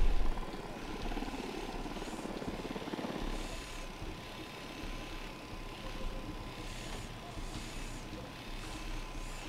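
A helicopter in the video game Ghost Recon Wildlands flying with a steady rotor drone that holds a constant level throughout, a broad engine rumble with no voices.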